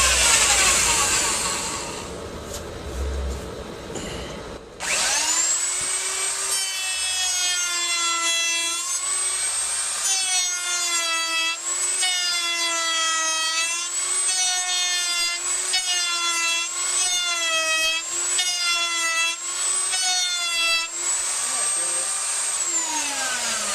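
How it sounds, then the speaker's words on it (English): A router fitted with a dull bit cuts into a wood board, a loud sustained whining, wavering roar that rises after a brief rustling start and holds steady for nearly twenty seconds. "I'm going to do a little bit of routing right here with a dull router bit"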